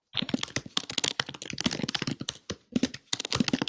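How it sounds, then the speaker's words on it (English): Typing on computer keyboards by an audience at a talk, rapid irregular clusters of clicky keystrokes close by, busy and continuous with brief pauses. "I hear some big typing."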